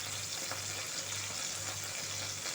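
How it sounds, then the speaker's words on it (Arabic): Chicken liver and onion fry in oil with a faint, continuous crackling sizzle under a low steady hum, quiet and uninterrupted. "في زيتها نروحو نديرو البصله."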